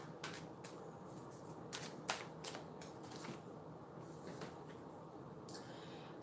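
Tarot cards are shuffled and drawn from the deck, making soft, quick riffling and snapping flicks in irregular bursts, faint and close, with no talking.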